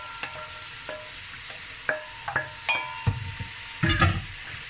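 Carrots tipped into a hot pan and stirred, with sharp scraping clatters of a utensil and bursts of sizzling frying that swell toward the end; no talk.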